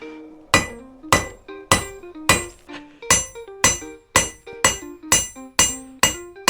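Hammer blows on a hot steel knife guard being forged on an anvil, about a dozen loud ringing strikes in a steady rhythm, each with a bright metallic clang and decaying ring, close up with no talking.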